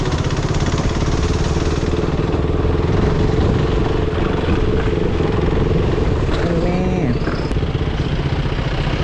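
Motorcycle engine running steadily throughout, a loud, close, continuous mid-pitched rumble with faint speech underneath.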